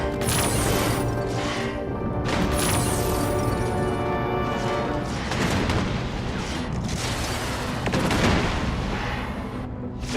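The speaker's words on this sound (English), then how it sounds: "Yeah, they're firing missiles." Behemoth capital ships in the space strategy game Endless Space 2 launch volleys of missiles, a continuous loud barrage of booms, crashes and whooshing launches layered over a low rumble for ten seconds.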